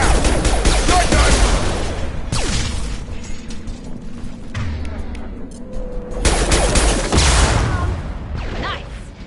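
Shotgun fire in a video game: repeated loud booming blasts in bursts, with mechanical clatter and battle noise between them, close and heavy.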